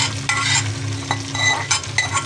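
Daliya stirred in a pan, with a close, loud crackling sizzle, a low steady hum underneath and repeated scraping stirs at an uneven rhythm.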